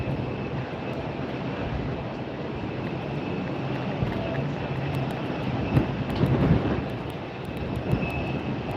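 Airliner thrust reversers roaring on landing at Tampa International Airport on a very windy day, a broad steady rumble mixed with gusting wind, distant but loud and continuous.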